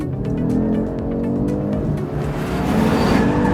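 An Audi RS3 engine drones at high revs, exhaust rumbling steadily with brief crackles and pops as the throttle shifts.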